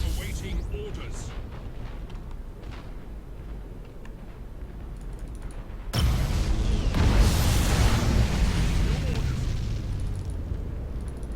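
Heavy explosions batter a battleship in the space strategy game Battlefleet Gothic: Armada, starting with a low rumble and a soft voice and then swelling into a loud, sustained roar of blasts from the middle of the clip onward.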